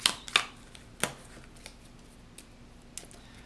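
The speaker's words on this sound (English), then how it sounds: "I'll go ahead and shuffle these cards up too." Playing cards shuffled by hand during a solo board game session, a few quick riffling bursts near the start followed by quieter handling, fairly close and alone.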